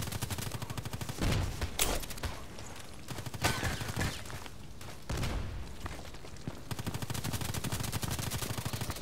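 AK-105 rifle fire in the Contract Wars video game: long, loud bursts of rapid automatic shots, separated by short pauses, each burst a dense rattling stream.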